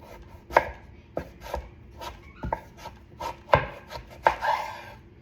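A knife chops sweet potatoes into small pieces on a cutting board, giving a series of sharp, close, irregularly spaced thuds with no talking.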